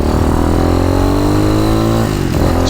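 A 2020 RPS Magician motorcycle, a small-displacement clone of the Yamaha Tricker, roars loud and close as its engine pulls through a steady rising rev with no talking.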